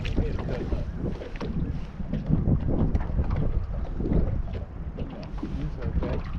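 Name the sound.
strong wind blowing on lake while fishing from boat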